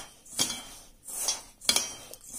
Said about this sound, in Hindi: देखो मिक्सर को मैं मिक्स कर लूंगी